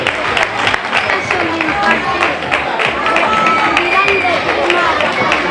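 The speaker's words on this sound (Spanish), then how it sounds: "Así que aplausos fuertes" Loud crowd applause and cheering at a carnival (Antroido) prize-giving, dense continuous clapping with voices mixed in throughout.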